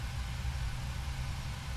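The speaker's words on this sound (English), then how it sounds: "There's the roar. That's how you know that the engine has successfully started" An aircraft engine just started in Flight Simulator X, a steady, low, droning roar with a rumbling hum, continuous and fairly quiet with no voices.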